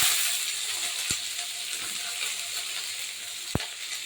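Two chopped onions hit a hot pan with green chilies for egg kothu chapathi. The pan sizzles steadily and close, with a couple of sharp clinks of a utensil against the pan.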